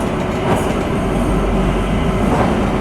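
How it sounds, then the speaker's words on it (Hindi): The Kalka–Shimla narrow-gauge toy train in the Himalayas runs through a long tunnel, a loud, dense, enclosed roar of wheels and carriage rumble with a faint rhythmic clatter throughout. "This is the longest tunnel of this route."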